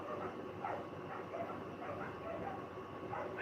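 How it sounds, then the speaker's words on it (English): Several dogs bark and yip at a distance outdoors, the barks scattered and irregular over steady background noise. "Can you guys hear the dogs barking?"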